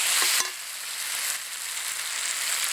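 Fish sautéing with yam, cauliflower and new potatoes in a pan, a steady close sizzle with a couple of spoon scrapes and stirs near the start, then a continuous even frying hiss.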